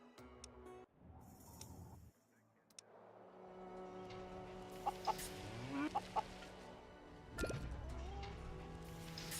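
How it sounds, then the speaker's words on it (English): Chickens cluck with sharp, repeated calls over a steady hum and background music in the post-apocalyptic colony-building game Surviving the Aftermath, while a voice talks quietly underneath. "I see her chickens, but not the cow."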